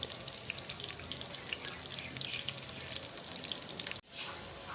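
Chopped onion fries in a hot pan of oil, giving a steady, crackling sizzle that runs evenly at moderate loudness, then briefly cuts out before resuming.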